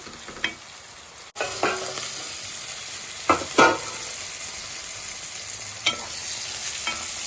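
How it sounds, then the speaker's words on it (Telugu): Chopped cluster beans cooking in oil on a medium flame, a steady close sizzle and hiss with a few sharp stirring clatters against the pan. "ఐదు నిమిషాలు మనం స్టవ్ మీడియం ఫ్లేమ్లో పెట్టుకుని మగ్గనిద్దాం"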